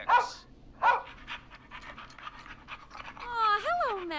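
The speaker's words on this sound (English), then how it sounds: "Max is my emotional support dog." Max, an emotional support rescue dog in the video game Killer Frequency, pants steadily in short, close breaths, then finishes with a rising, wavering whine.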